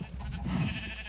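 Sheep on an animal farm in the Minecraft video game, a single wavering bleat near and clear over a low ambient background, no speech.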